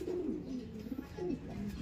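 Soft, repeated cooing of a pigeon or dove, a low warbling call rising and falling several times, fairly close with faint background noise.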